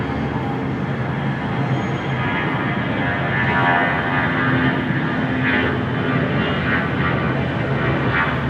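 An airliner taxiing at LAX onto Taxiway Alpha toward runway 7 right, a steady, loud turbine whine and rumble holding level throughout with no voices.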